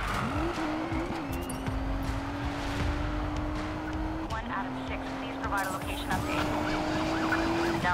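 Police car sirens wail in a video game chase, a steady held tone that dips and resumes, loud and close over engine roar, with voices talking intermittently.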